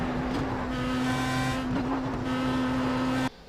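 Pro Mazda race car engine in the iRacing video game at the Nürburgring, a steady high droning whine held at near-constant pitch with a couple of slight dips, running loud and close before cutting off abruptly at the end.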